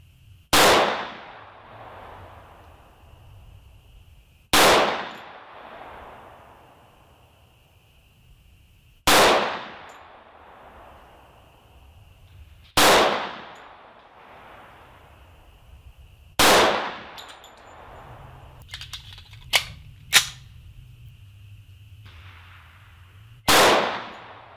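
Rifle shots at an outdoor shooting range, six loud sharp cracks spaced several seconds apart, each with a ringing decay, plus a few quick clicks between the last shots.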